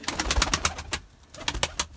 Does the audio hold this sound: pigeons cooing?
yes